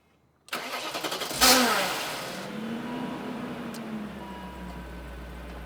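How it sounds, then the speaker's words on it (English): BMW 540i E39 starter hanging up while cranking: a rapid whirring crank bursts into a loud catch, then a drawn-out grinding whine lingers under the settling engine idle, close up. "the starter's hanging up now"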